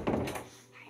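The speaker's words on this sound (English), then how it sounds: "Gotta close this door first." A door being pushed shut, a single muffled thud of moderate loudness up close, followed by a quiet settling tail.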